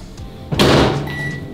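A microwave oven running with a steady hum as a pizza bun heats inside, a door-like thunk and a brief beep cutting through, close and fairly loud.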